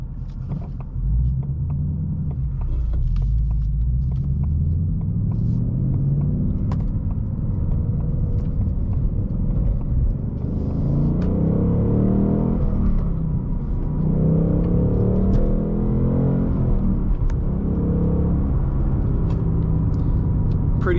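A 2023 Ford Mustang Mach 1 V8 pulling hard from inside the cabin, a deep rumbling engine note rising and building across several long surges of acceleration, loud and steady throughout.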